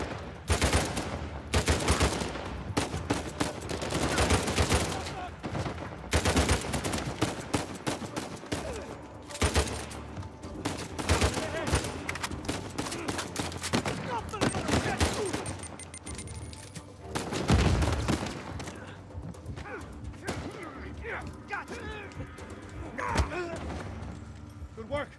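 Bursts of automatic gunfire and heavy thuds in a video game, loud and repeated throughout with short pauses between volleys, while players talk over the shooting.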